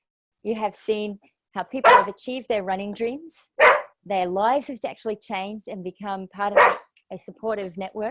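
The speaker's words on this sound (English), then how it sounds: "oh, excuse my dog in the background." A pet dog barks intermittently in a home setting, short yips popping up beneath continuous close speech from someone talking throughout.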